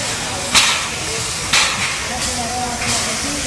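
A steam locomotive lined up before a steam-engine race in a small Slovenian town hisses steadily, with a few sharper bursts of released steam rising out of the continuous noise.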